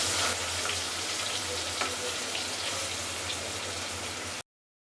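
Chicken Manchurian pieces fry again over a high flame, a dense, steady sizzle close by that holds evenly for about four seconds, then cuts off abruptly into silence.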